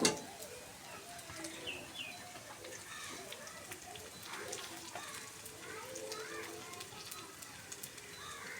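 Onion sizzles and crackles softly in a pan with ginger, garlic and cumin paste, a faint, steady frying hiss under someone talking.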